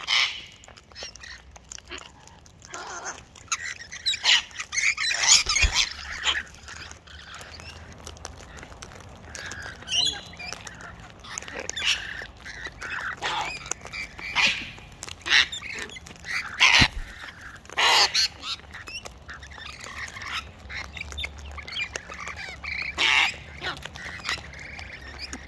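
Lorikeets and cockatoos squawk and screech in a noisy, overlapping flock close by, harsh calls repeating throughout amid scattered seed and buckets.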